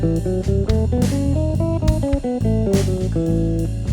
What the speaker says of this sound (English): So here's your E melodic minor scale.